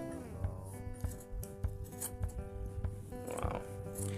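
Sharp scissors snip through tufted rug yarn in a run of crisp, quiet cuts at an uneven rhythm, close to the microphone, with soft handling noise between the cuts.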